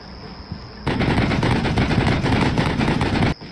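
Stryker M2 heavy machine gun firing at a BTR-82 in Combat Mission Black Sea: a loud, sustained burst of rapid rhythmic shots that starts abruptly after a quieter lead-in and cuts off sharply near the end.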